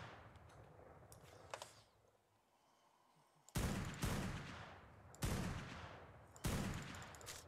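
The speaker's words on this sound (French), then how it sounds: "on va commencer par le fusil de précision" Sniper rifle shots in the game Ark while fighting an alpha T-Rex, three loud sharp cracks spaced a second or more apart, each with a decaying tail, over quieter background game noise and earlier faint clicks.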